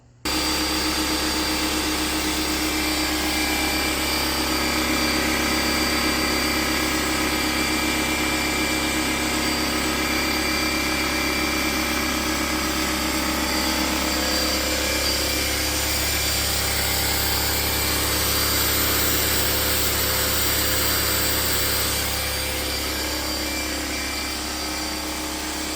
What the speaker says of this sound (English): I'm about to break in the compressor, which basically means opening up that ball valve down there, turning this bad boy on, and letting it run 30 minutes